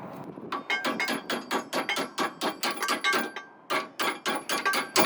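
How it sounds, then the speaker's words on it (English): A hammer strikes a rusted, corroded rear strut mount on a Dodge Caliber, a rapid run of sharp metallic blows that pauses briefly midway and then resumes, loud and close. "you can get a hammer underneath there and bang it through"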